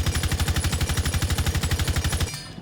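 Rapid fully automatic M762 rifle fire in Rainbow Six Siege, fitted with a flash hider and vertical grip, a loud, steady burst of evenly spaced shots lasting over two seconds before stopping abruptly.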